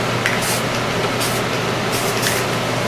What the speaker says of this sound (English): Test spray real quick.